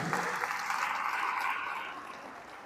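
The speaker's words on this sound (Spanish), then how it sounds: "Da un aplauso a Cristo." A church congregation at a Sunday service applauds with a steady, moderate wash of clapping that eases slightly toward the end.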